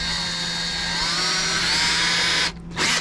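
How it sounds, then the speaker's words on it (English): A drill press bores a mortise hole in wood, giving a loud, steady whine that holds for about two and a half seconds, cuts out briefly, then returns in a short final burst. "Again, I go back to the drill press"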